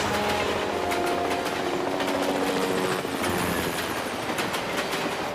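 A moving train rolls along the tracks with a loud, continuous rumble and rapid metallic clatter from the wheels, steady and close throughout without any talking.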